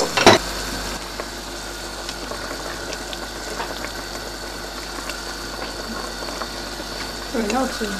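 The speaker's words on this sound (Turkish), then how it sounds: "kaynamakta olan alt sebzelerimizin üstüne tuzunu ilave ediyorum" Vegetables bubbling in a pot of water for Uzbek cabbage rolls, a steady low simmer with faint clinks and a brief louder knock at the start.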